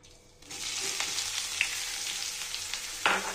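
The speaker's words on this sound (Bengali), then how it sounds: "এই তেলের মধ্যে এবার আমি পেঁয়াজ কুচিটা দিয়ে দেবো।" Chopped onions dropped into hot oil, a sudden bright sizzle that bursts in and keeps crackling loudly, with a couple of sharper spatters and stirring clatters, no talk.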